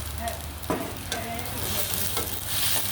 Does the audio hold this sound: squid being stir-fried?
yes